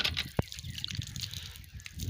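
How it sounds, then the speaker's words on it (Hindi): Faint trickling and sloshing of water running from a hand pump tap, with a soft knock near the start and low background noise throughout. "पानी दे रहा है नलका"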